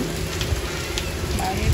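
Sudden heavy rain driven by wind pours down steadily, a dense continuous hiss of drops striking surfaces close by, with brief gusty rumbles and no speech.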